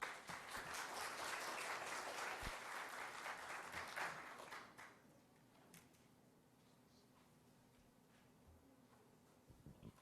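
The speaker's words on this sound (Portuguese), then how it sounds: "Uma salva de palmas." Seminar audience applauding a speaker, dense steady clapping that fills the room for about four seconds, then fades to quiet room tone with a few scattered claps and faint murmurs.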